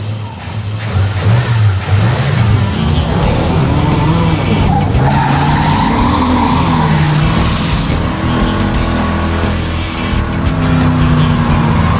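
Loud screeching tire squeal with a revving engine, rubber spinning continuously as the car roars close by, no talk.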